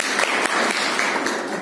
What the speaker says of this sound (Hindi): ताली बजाओ सीएम के लिए।